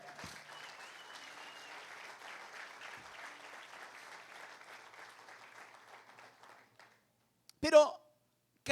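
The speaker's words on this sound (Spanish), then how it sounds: "denle un aplauso al Señor." A church congregation claps in praise during a worship service: sustained, moderately loud massed applause that fades out after several seconds, followed by a brief loud vocal burst near the end.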